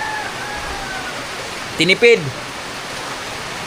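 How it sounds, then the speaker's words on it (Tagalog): Heavy typhoon rain falling continuously as a steady broadband wash, while a voice briefly speaks over it partway through. "Tuloy-tuloy na tong ulan to mga birds."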